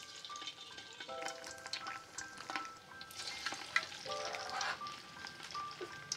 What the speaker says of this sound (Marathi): अशा प्रकारे हे ना वडे फ्राय होत आहेत